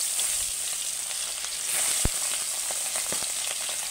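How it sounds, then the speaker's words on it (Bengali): Salted catla fish heads fry in hot oil in a kadai, a steady close sizzle with scattered crackles and one sharp knock midway. "ওই জন্য মুড়োগুলো এবার ভাজতে তুলে দেবো"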